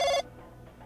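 A red telephone rings in Team Fortress 2, a single short, bright electronic ring that stops abruptly, followed by quiet room tone.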